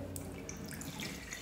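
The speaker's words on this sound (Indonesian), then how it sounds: "disaring lagi, pelan-pelan aja teman-teman siramnya pelan-pelan aja" Water poured slowly from a bottle through a sieve while hatching brine shrimp, a soft continuous trickling and splashing at close range with no voices.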